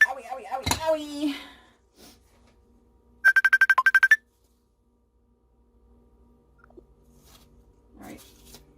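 A phone rings in a short burst of rapid electronic trills during an eBay shipping packing session, loud and close, after a stretch of talk with brief quiet and soft speech following.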